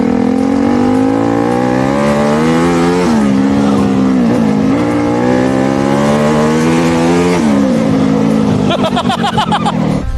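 A tuned turbocharged car engine revs hard and close, its pitch climbing and dropping in repeated surges over a steady idle, ending in rough, crackling pulses.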